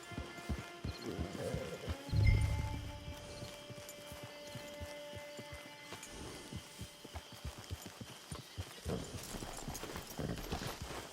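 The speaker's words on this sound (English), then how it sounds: "Get your horse." Horse hooves clip-clop along in the Red Dead Online video game at a steady walking pace, fairly quiet and continuous throughout, with soft background ambience and no voices.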